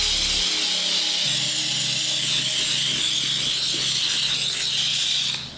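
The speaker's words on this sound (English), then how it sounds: "Now we're gonna move on to the actual steamer with the brush attachment" A handheld steamer with a brush attachment cleans the clear soles of Jordan 11 Space Jam sneakers, a loud, steady hissing rush that holds level for several seconds before cutting off.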